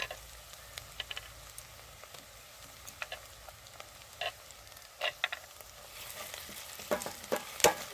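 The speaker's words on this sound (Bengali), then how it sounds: "এবার আমি দিয়ে দেবো আদা রসুন বাটা।" Ginger-garlic paste sizzles and spits in a pan of lightly browned onions for a Bengali mutter paneer, a steady frying crackle broken by sharp stirring scrapes and pops that grow louder and busier toward the end, with no voices.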